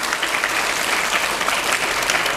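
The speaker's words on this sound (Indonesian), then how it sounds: "Boleh tepuk tangan dulu buat kita semua ya" An audience at a campus visit event applauds, a short burst of dense, even clapping from a sizable crowd heard up close.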